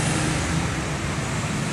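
Dense roadside traffic rumbles continuously and close, with a passing intercity bus among the vehicles, a steady broadband roar with no voices.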